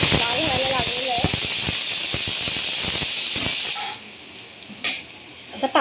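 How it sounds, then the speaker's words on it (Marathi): Chopped onion fries in a pan for a vegetable dish, giving a loud, steady sizzling hiss that cuts off abruptly partway through. A voice talks over the opening seconds, and a few faint clinks follow once the sizzle stops. "आता पाहू शकता आपला कांदा व्यवस्थित भाजत आलेला आहे."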